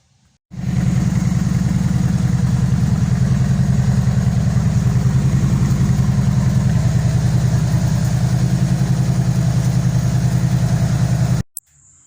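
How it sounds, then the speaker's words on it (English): A Kawasaki Vulcan VN2000 motorcycle engine idles steadily up close, a low even chugging rhythm that runs for about eleven seconds before cutting off. "I'm just going to run the engine for a little while now"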